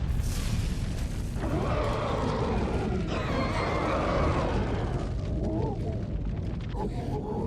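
A relic beacon is destroyed in Lord of the Rings Online, a loud, sustained rumbling eruption with booming bursts and a swelling roar that fades toward the end, with no talk.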